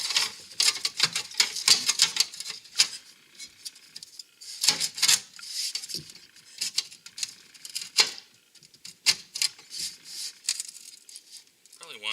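A ZZP cold air intake on a Buick Regal GS is trimmed in place, with repeated close scraping, cutting and crinkling strokes in uneven bursts, fairly loud and steady.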